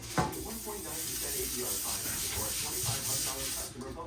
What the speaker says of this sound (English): Since I'm just using this on the foil, I'm going to go ahead and use some Pam.